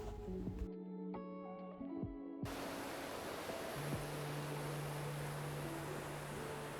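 Ocean waves wash in a steady, soft broadband hiss at dusk, continuous and fairly faint, following a brief stretch of tonal sounds at the start, with no voices.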